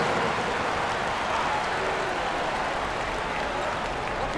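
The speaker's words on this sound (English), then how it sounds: "Let's give them a round of applause, your Omaha Airmen dancers." A large virtual crowd in the basketball video game NBA 2K applauds and cheers in a steady, dense roar that holds at an even level throughout, with no distinct voices standing out.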